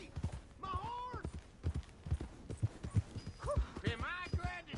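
Horse hooves clip-clop in Red Dead Redemption 2, a steady rhythmic thudding of steps beneath frequent voices talking and calling out.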